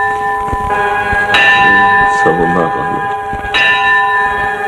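Church bells ring with bright, sustained metallic tones and two sharp new strikes that hang and decay, while a person speaks briefly under them in a Georgian film.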